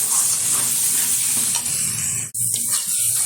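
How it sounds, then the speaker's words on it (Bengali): Spices, salt and chopped tomato being sautéed together for a country-chicken and potato curry, giving a loud, continuous sizzle and hiss with stirring, briefly cut by a sharp knock near the end. "ভালোভাবে উপকরণগুলো একসাথে কষিয়ে নেব।"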